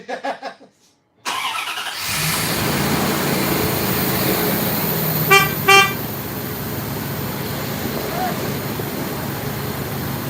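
A 1996 Dodge Dakota engine cranks briefly and fires up, settling into a loud, steady idle close by, with a couple of short horn-like toots partway through and a voice at the start.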